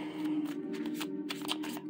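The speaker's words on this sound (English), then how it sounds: "I'm going to pull four cards." Cards from a mediumship deck handled and pulled out one by one: soft, close sliding and rustling against a steady low hum.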